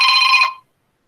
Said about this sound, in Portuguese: Tocou aqui o meu celular, desculpa aí.